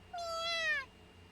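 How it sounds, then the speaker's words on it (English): A small black kitten gives a single clear, fairly close meow, rising then falling, lasting under a second against a quiet background. "The transceiver cat meows sweetly in reply."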